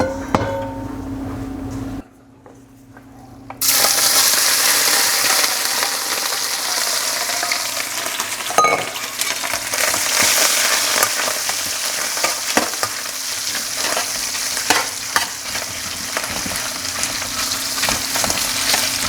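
Shrimp stir-fries in a smoking-hot wok with about two tablespoons of oil, giving a loud, continuous close sizzle after a brief quiet start, with occasional sharp clanks as the pieces are flipped.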